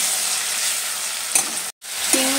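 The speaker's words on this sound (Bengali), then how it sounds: "আমি সরষের তেলটা গরম করে নিয়ে হলুদ আর চিংড়িটা দিয়ে দিচ্ছি" Shrimp sizzling loudly in hot mustard oil with turmeric, a dense close hiss that runs almost without pause, broken by a brief clink and a momentary cut near the end.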